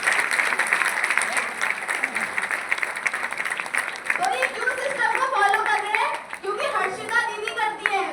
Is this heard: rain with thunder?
no